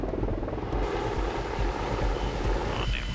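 A military rescue helicopter approaches for a pickup in hostile terrain, its rotor and engine making a loud, steady, continuous drone throughout with no voices.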